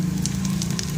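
Ginger sizzles as it is stir-fried in a pan for a spicy wonton broth: a steady low frying hiss with a few brief crackling spatters, close and continuous, with no talking.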